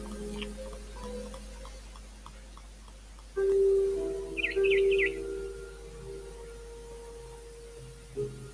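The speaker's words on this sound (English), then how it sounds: "Then I heard chirping outside my window. It was a barn swallow going back to her nest." Barn swallow chirping in the video game What Remains of Edith Finch: a brief cluster of three or four quick, high chirps near the middle, fairly faint over a steady tonal ambient hum and soft ticking.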